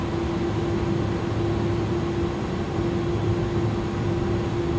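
Jet engines of the iniBuilds A300 in Microsoft Flight Simulator hold a steady, loud whining roar with a constant tonal hum as they spool up against the parking brake, continuous and unchanging throughout.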